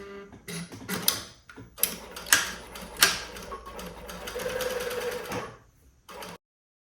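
A sewing machine runs in bursts as it stitches the seams of a pair of simple shorts, its close mechanical whirring stopping and restarting several times before ending abruptly.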